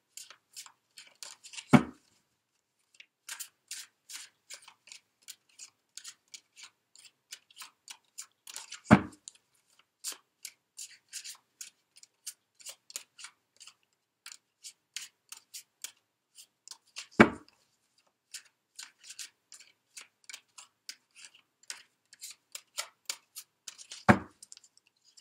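Tarot of Sexual Magic cards shuffled and handled, with soft riffling flicks and light taps in irregular bursts and a sharper card slap about every seven seconds, close and quiet, no talking.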